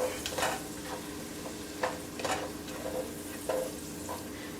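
Onions and garlic frying in bacon fat over medium heat for fried cabbage, with a steady close sizzle and several soft scraping stirs scattered throughout.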